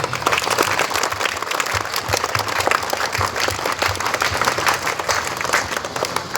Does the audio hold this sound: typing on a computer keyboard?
no